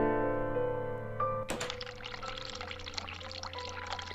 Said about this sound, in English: Turn cold water on.